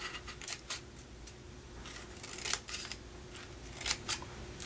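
Scissors snipping through soft candy or treat pieces, several quick, crisp cuts at an irregular pace, close up and fairly quiet with no talking.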